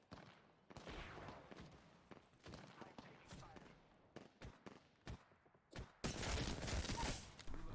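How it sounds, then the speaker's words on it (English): Video game enemy gunfire crackles in repeated bursts and sharp single shots, irregular and fairly close, building to a dense loud volley at the end. "Here the enemy starts to shoot me."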